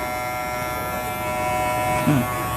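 Electric hair clippers cutting hair at a barbershop during a two-block undercut, a steady close buzz with a brief change in tone near the end, with a faint voice in the background.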